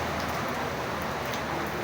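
Heavy, prolonged rain pours steadily at a construction site, a dense continuous hiss of drops on surfaces with no voices over it.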